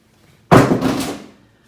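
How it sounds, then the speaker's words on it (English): Bus doors swinging open as a city bus stops: one sudden, loud thump-and-whoosh that fades over about a second. "The bus creaked to a stop in front of them. It sighed and sagged, and the doors swung open."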